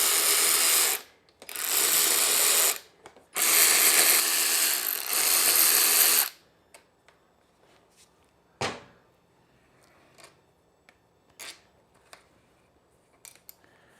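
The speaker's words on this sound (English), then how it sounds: "I'm going to go ahead and take the bolts all the way out." A hand ratchet on a Honda XR250R dirt bike's front fork bolts, giving three bursts of rapid clicking up close, then sparse small metallic clinks and taps as the bolts come free.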